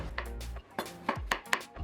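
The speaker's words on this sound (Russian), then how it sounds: "Пластинками режу грибы." Several quick knife taps against a cutting board slicing mushrooms, irregular chops about every quarter second, close and crisp.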